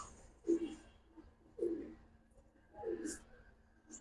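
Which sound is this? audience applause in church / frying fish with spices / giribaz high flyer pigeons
giribaz high flyer pigeons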